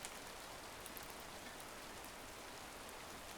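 Steady, even rain from the video game A Storied Life: Tabitha, a soft continuous hiss of falling drops on a surface, faint and unbroken with no voices.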